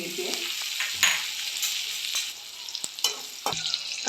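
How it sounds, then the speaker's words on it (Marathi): Ginger, chili and curry leaves sizzling in hot tempering oil for finger millet upma, a soft steady fry broken by several sharp spatula scrapes and stirs. "आलं, मिरची आणि कढीलिंबू घालून घेते."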